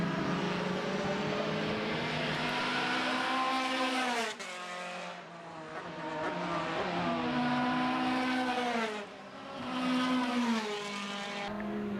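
Formula BOSS single-seater race cars at Mondello circuit scream past in a continuous high-revving wail, engine pitch rising and falling through gear changes as cars approach, lap slower traffic and pass close by, with no talk.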